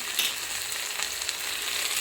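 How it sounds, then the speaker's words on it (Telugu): Coriander with its stems fries in a pan, giving a steady, close sizzle with small crackling pops throughout and no voices. "కొత్తిమీర వేసేసాను. ఫ్రై అవ్వనిద్దాం."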